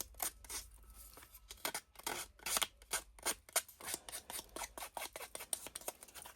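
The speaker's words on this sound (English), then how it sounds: "Sometimes just a pair of scissors that you can open up all the way, you can rough the edge just a little bit" Scissors opened wide scrape and rough up the edges of playing card paper for crafting, making a close, repeated series of short, crisp rasping strokes in an uneven rhythm, with no talking.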